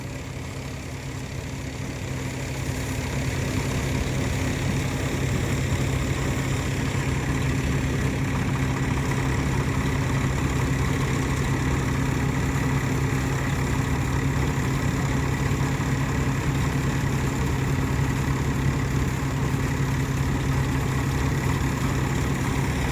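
A tractor engine idles in a groundnut field, a steady low mechanical hum with a constant drone, rising slightly in loudness at first and then holding even, with no voices.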